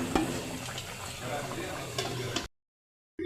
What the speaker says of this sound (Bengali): মাঝখানে একটু লাড়া দিয়ে দেব।